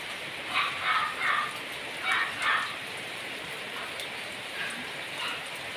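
Steady rain hiss fills the scene, with brief louder bursts of patter and drips rising over the constant wash.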